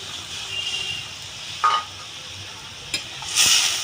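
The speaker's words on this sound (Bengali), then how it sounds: "একটু নাড়াচাড়া করে দেবো।" Bori fried in a pan with water, turmeric and salt is stirred with a utensil, giving a steady close sizzle with a few scraping strokes and soft clatter.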